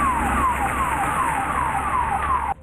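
A fire brigade vehicle arrives at a factory fire with its siren wailing loudly in repeated falling sweeps, close and continuous over a low rumble.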